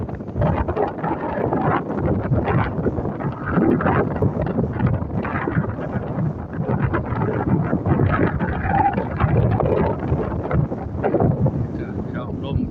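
Cool wind blows over the dried-out Mekong River during a fishing outing, a loud, continuous roaring rush of gusts buffeting the microphone throughout.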